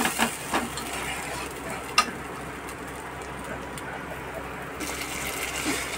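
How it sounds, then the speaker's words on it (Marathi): Curry leaves and masala sautéing in oil give a soft continuous sizzle with occasional stirring scrapes and crackles. It stays close and steady, with no speech. "कढीपत्ता चांगला मसाला चांगला तेलात परतून घ्यायचा"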